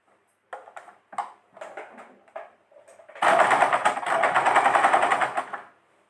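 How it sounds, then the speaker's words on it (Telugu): A sewing machine stitches old saree cloth, first in short stop-start bursts of rapid clatter, then in one long, loud, continuous run of fast stitching before it stops. "ఫస్ట్ ఒరిజినల్ క్లాత్ని స్టిచ్ చేసేసుకుందామండి"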